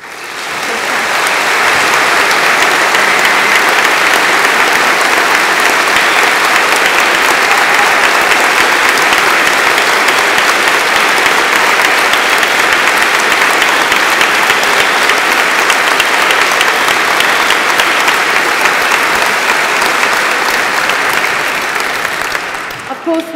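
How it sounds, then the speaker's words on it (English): Sustained applause from a large audience at an Edinburgh university degree ceremony, clapping for staff; dense, steady and loud throughout, with no talk over it. "I've only just got it started in terms of celebrating and clapping"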